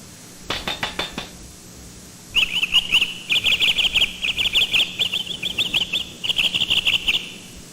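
A bird sings in bright, rapid chirping trills, starting with a short burst and then longer runs of quick repeated high notes with brief pauses, close and clear against a quiet background.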